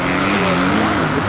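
A racing motorcycle ridden by an A-license rider at a German championship (DEM) race in Tucheim drones loudly and steadily, with the engine roaring without a break throughout.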